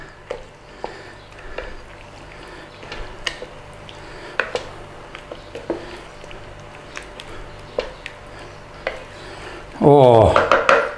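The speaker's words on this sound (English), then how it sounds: "Stir that in there" Beef Madras is stirred in a slow cooker, giving scattered soft scrapes and clacks of a utensil against the pot at an irregular rhythm, with a louder rattling clatter near the end.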